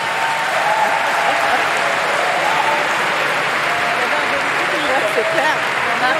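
Audience applause greeting Marie Toussaint, the Green list leader, at a European election debate at a university, steady dense clapping filling the room throughout without a break.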